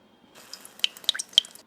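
A small amount of water is poured onto a stone during makeup prep, giving a few light, close drips and splashes against a quiet background.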